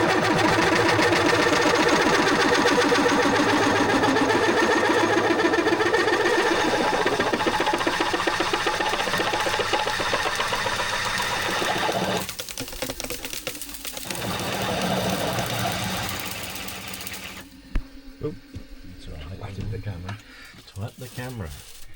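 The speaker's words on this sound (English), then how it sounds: "we've just drilled holes through at the moment rather than boring" A milling machine drills 1-inch holes through a heavy steel rudder for a 50ft steel boat. The machining drone is loud and steady at first, then turns rougher and broken with clattering cutting noise, and a voice speaks over parts of it.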